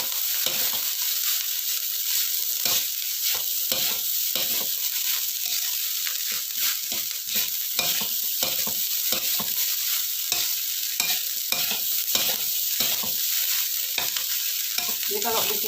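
Nasi goreng with sambal tempe and plenty of salty soy sauce is stir-fried in a pan, giving a steady bright sizzle broken by rapid, repeated scraping and tossing strokes, with no talking.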